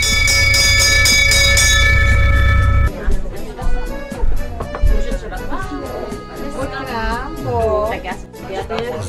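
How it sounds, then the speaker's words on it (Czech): A bell rings out with sustained metallic tones at the start, heard on a cycling and boat trip in Croatia, then fades as people chatter and talk nearby. "protože slyší zvon"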